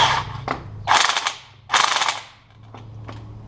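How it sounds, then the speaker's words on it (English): Spring compressors being tightened on the coil spring of a 2006-2011 Honda Civic strut: several short bursts of close, loud mechanical ratcheting separated by brief pauses, with a low steady hum underneath. "When using the spring compressors, what I like to do, I'll go ahead and tighten them up just a little bit."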